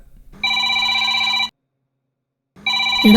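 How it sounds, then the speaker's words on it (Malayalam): Telephone bell ringing in two loud, steady electronic bursts, about a second long each, with a silent gap between them and no voices. "എത്ര സമയമായടാ ആ ഫോൺ റിങ് ചെയ്യാൻ തുടങ്ങിയിട്ട്?"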